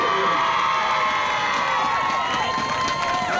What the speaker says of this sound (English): So great opportunity to score as you hear the crowd cheering